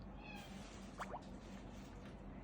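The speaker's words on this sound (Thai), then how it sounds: "แมวจิกจิกก็ร้องตรงนู้น" A cat meows in an old game played on the original 2007 iPhone: a single short, faint meow midway through, over a steady low background hum.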